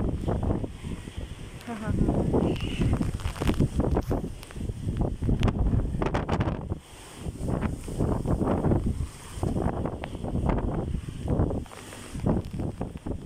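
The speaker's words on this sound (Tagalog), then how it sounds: "malakas ang hangin." Strong wind from Tropical Cyclone Shaheen in Muscat, Oman roars steadily against the microphone, with gusty buffeting throughout and people talking over it.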